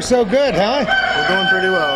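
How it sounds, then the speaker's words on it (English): A rooster crows with a rising and falling call at an FFA agricultural fair, up close and loud, while people chat casually over it. "There's the rooster crowed right on cue."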